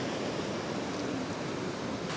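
Strong ocean waves wash continuously onto a beach in Danang, Vietnam, a steady broadband roar of surf with no distinct breaks, ending in a brief louder burst.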